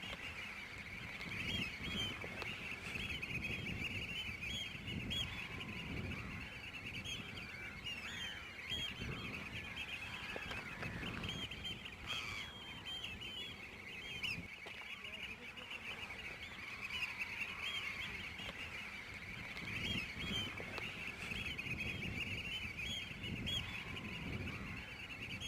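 Thousands of small shorebirds gathered at high tide give a dense, continuous wash of distant calls and chatter. It carries steadily under wind noise and stays fairly faint throughout.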